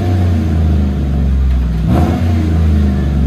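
A Chevy 5.3L V8 in a Tahoe or Suburban revs through a Dynomax Race Bullet exhaust, a loud, deep, steady drone with one brief rise in pitch midway, heard alone.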